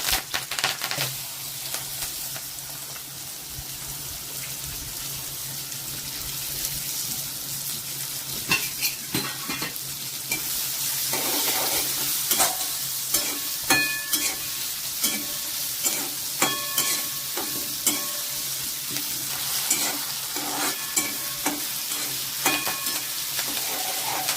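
Garlic and curry leaves fry in hot oil for a chana dal and onion sabzi, giving a steady close sizzle with scattered sharp crackles and pops and a few spoon scrapes against the pan throughout.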